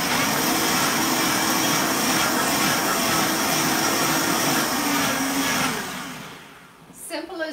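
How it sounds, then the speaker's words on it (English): A Vitamix blender whirs at high speed, blending cabbage and water in a loud, steady roar that holds for several seconds, then winds down and cuts off near the end. "it's just the Vitamix going."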